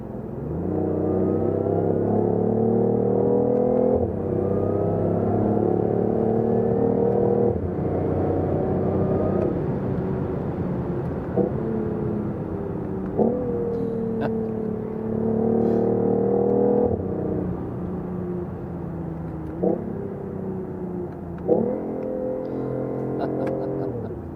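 A BMW i8 hybrid sports car driving on the road, its engine note partly generated through the cabin speakers, gives a steady, loud droning hum that rises and falls with repeated gear shifts.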